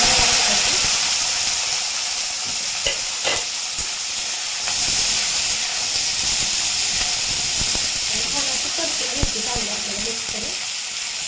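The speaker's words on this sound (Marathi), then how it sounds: "लसूण आता लालसर रंगावरती तांबूस रंगावरती भाजले" Garlic frying in hot oil while cooking cluster beans (gavar), giving a steady close sizzle and hiss throughout with a few small clicks and stirring knocks, no speech.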